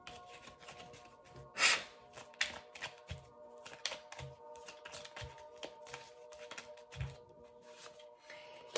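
Oracle cards are shuffled by hand at close range, a quiet run of soft riffles and light taps with one louder flurry near the start, in an otherwise hushed room.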